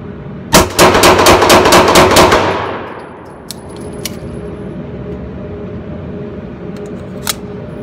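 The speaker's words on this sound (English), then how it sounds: "Now we're going to do eight rounds rapid fire." Eight rapid pistol shots from a Dan Wesson Valkyrie Commander crack out in a fast, loud burst at a range, followed by ringing echo, faint metallic clinks and outdoor hush.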